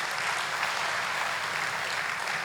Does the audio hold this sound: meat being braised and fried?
no